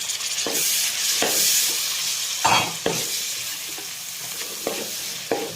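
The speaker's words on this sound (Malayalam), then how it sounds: "ഇനിയിപ്പം അതിലേക്ക് 2 പഴുത്ത തക്കാളി അരിഞ്ഞതിടാൻ പോവുക" Two chopped ripe tomatoes go into onions frying in a pan for a Kerala-style chicken curry, giving a loud, close, continuous sizzle with several scraping stirs spaced a second or so apart.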